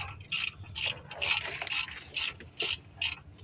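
A ratchet tightening bolts on the engine bay of a 2008 Honda CR-V 4WD during starter and intake plenum installation, giving repeated bursts of sharp mechanical clicking, close and fairly loud, in short irregular strokes.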